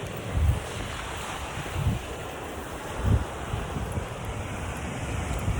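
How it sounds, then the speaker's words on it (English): Ocean waves wash onto a beach in Mallorca, a steady low roar with soft surges swelling roughly every one to two seconds, carried by wind buffeting the microphone. "You guys can hear the waves."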